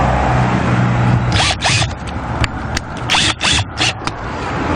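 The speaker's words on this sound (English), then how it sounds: "And then screw in with the short screws provided." Short screws are driven into the Georgian bars of a wooden garden cabin, heard as several brief ratcheting, whirring bursts in quick succession, close by and fairly loud, with no talking.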